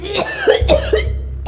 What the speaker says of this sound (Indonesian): Tumben batuk.